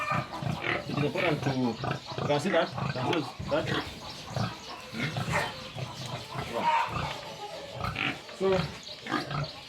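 A pig grunts and snorts repeatedly in a sty, close and loud, while a person talks over it.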